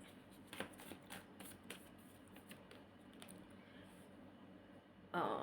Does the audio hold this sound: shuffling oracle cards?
yes